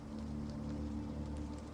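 Heavy rain drums steadily on a car roof during a downpour, a dense continuous patter with a low engine-like hum beneath, close and unbroken throughout.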